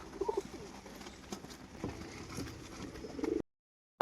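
Breeding pair of Kaldom pigeons cooing close by, soft repeated low coos with light rustling, ending abruptly in silence before a brief click.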